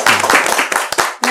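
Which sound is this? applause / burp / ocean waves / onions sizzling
applause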